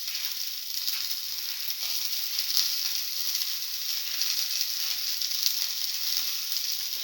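Red chillies sizzle in hot oil with a steady, close, bright crackling hiss that holds evenly throughout, with no talk over it.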